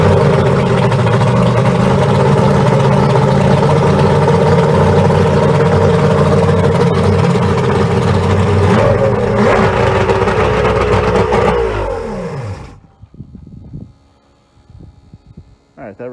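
A boat outboard motor runs loud and close with a steady droning roar and some throttle rise, then cuts out abruptly near the end, leaving quiet with faint clicks and rustle.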